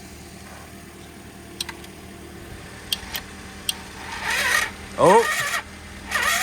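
Moped engine cranking over in a shop, a short whirring starter burst after a few clicks, close, with a person briefly speaking.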